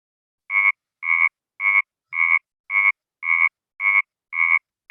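Pacific chorus frog calling in a steady series of about nine short, evenly spaced two-part ribbit croaks, loud and close with silence between them and no talk.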